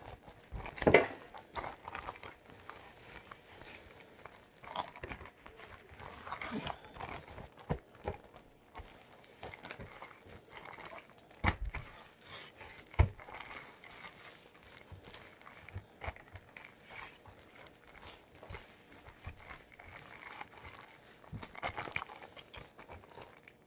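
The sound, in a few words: shaking bread dough and flour in a sealed bag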